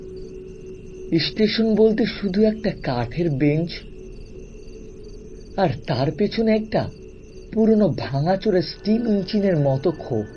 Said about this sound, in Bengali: দূর থেকে ঝিঝি পোকার ডাক শোনা যাচ্ছিল,